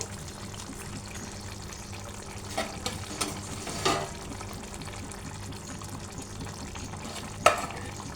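Prawns frying in a pan, a steady close sizzle and crackle with occasional scraping knocks of a stirring spoon against the pan.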